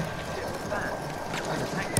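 A horse gallops in the video game Battlefield 1, hooves clip-clopping in a quick rhythm under battle ambience while players talk over it.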